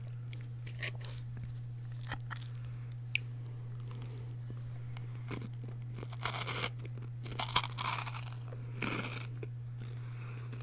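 Crunchy chewing of croutons in a salad close to the mic, irregular bites with a few louder crackling crunches, over a steady low hum.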